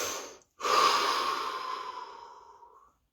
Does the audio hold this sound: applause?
no